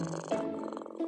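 A contented domestic cat purring up close, a steady rumbling purr over about a second.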